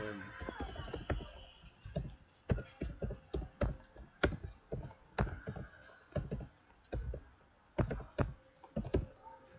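Keys tapped on a computer keyboard in short irregular bursts, close and fairly quiet, with clicks clustered into quick runs and brief pauses between them.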